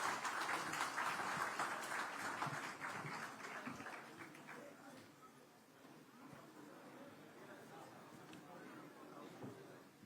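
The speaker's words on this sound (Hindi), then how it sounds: "तालियों के साथ स्वागत कीजिए" An audience applauds as politician Shivraj Singh Chauhan is welcomed on stage at an election interview event, a dense wash of distant clapping that slowly fades, with faint voices underneath.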